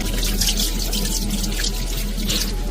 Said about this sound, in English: Now rinse it thoroughly with water.